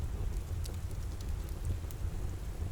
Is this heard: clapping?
no